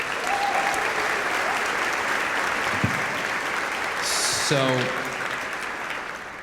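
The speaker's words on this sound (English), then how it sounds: "Should we give them a quick round of applause?" A graduation crowd at a college commencement ceremony applauds graduates with steady, dense clapping that fills the room evenly, fading slightly at the end, with a few faint voices and one short spoken word.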